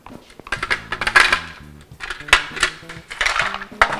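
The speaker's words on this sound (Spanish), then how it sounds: "Vamos a mezclar y vamos a adicionar el hielo." Ice cubes clink and rattle in a container as lulada drink is mixed, bright irregular clatter in several bursts over a few seconds, close and moderately loud.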